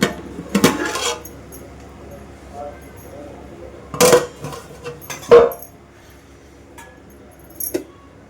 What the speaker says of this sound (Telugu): ఒకసారి అయితే మూత తీసి అయితే చూద్దాం